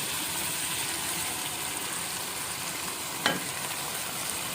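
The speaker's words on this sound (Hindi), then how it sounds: "यहाँ पे जी दाल को अच्छी तरह से भूनें।" Boiled whole moong dal fried with masala in a pan gives a soft, continuous sizzle with a single sharp scrape of a spoon near the end, fairly quiet and with no voice.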